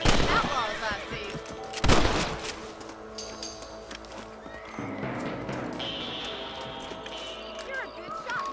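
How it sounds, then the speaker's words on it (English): A single loud rifle shot rings out while hunting rabbits in the Western video game Red Dead Redemption, set against horse whinnies, snorts and clip-clopping hooves in the background. "You're better at shooting rabbits than outlaws, I see."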